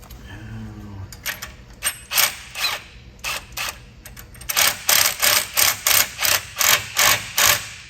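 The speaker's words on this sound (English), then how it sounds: "7/16 wrenches or sockets and wrenches" A socket wrench turns 7/16 bolts on a Jeep, making a series of rhythmic ratcheting bursts that begin irregularly, then settle into steady, evenly spaced strokes, close and fairly loud with no talk.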